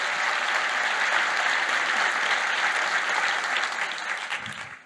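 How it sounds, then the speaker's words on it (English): A conference audience at GreenBiz 2025 gives sustained, full applause for a group of emerging leaders, holding strong for several seconds before tapering off at the end. "Join me in giving them an extra round of applause."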